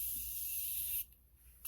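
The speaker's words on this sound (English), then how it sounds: "as my last setting spray, I either do the Morphe Continuous or I do the Slay All Day" Morphe Continuous setting spray misted from a pump bottle onto a made-up face, a steady close hiss lasting about a second, a short pause, then the start of another spray.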